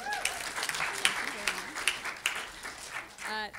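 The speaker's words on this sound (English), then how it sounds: "We can applaud" Audience at a public speaking contest applauding the judging panel, a steady patter of clapping across the room with voices heard over it.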